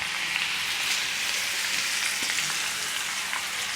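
A tadka of red chili, ground garlic and curry leaves in hot oil gives a loud, dense, steady hiss and crackle that stays even throughout, with no voices.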